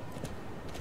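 Hooves of a wild horse clip-clopping in the online game Star Stable Online, a brief run of soft, rapid hoofbeats under a busy game soundtrack.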